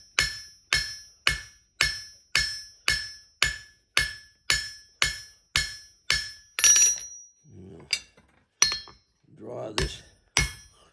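Steady hammer blows ring on hot metal at an anvil while a horse head is forged, about a dozen evenly spaced, sharp clanging strikes that then break into a few scattered, irregular knocks and clinks.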